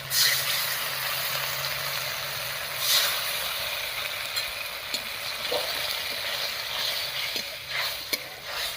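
Ground spice paste and a splash of water sizzling in a pan of browned fried onions while cooking bitter gourd, a loud, continuous hiss with a few faint scrapes of stirring.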